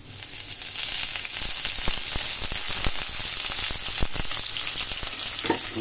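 Onion and chili sizzle steadily in hot mustard oil, a dense close crackle with scattered sharper pops and faint stirring scrapes throughout.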